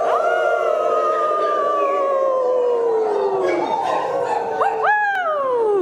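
A church congregation at a Halloween worship service imitates a werewolf howl, many voices rising and falling in long overlapping howls, loud and full, with a few higher yips near the end.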